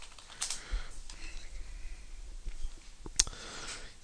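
Keys on a computer keyboard click in a sparse, irregular patter against a steady background hiss, with a few sharper taps standing out.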